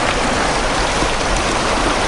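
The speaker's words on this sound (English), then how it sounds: "It's a little river, I guess." Small river in China flowing steadily, a dense close rush of water, loud and unbroken with no voices.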